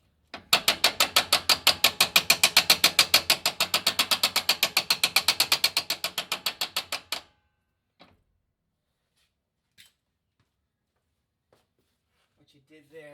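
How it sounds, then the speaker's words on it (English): An Aussie locker differential ratchets as a wheel is spun by hand in reverse, giving a loud, fast, steady run of metallic clicks for about seven seconds that slows and stops, followed by a few faint knocks. "you should see this AUSSIE locker ratchet and unlock itself."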